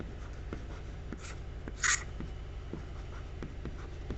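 Writing on a board during a physics lesson on ray optics, heard as close, rhythmic marker or chalk strokes with regular taps and one brief louder scrape in the middle.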